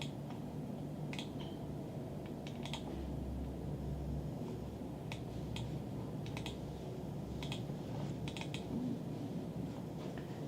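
Typing on a keyboard fitted with Epomaker Tempo Cherry-profile PBT dye-sub keycaps, a scattering of soft, muted key clicks at a low level over a steady background hum.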